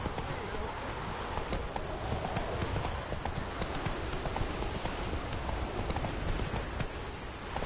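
Hooves of Roach, a horse in the video game The Witcher 3, clip-clop in a steady trotting rhythm, close and continuous under a wash of ambient game noise.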